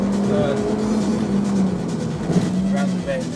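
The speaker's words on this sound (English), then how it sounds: "I'll try and insert a clip now of me driving the Type R down this road." A Honda Civic Type R EP3 revving hard as it drives down a road, its engine note steady and droning, climbing and falling through the clip, heard from inside the car with a voice talking over it.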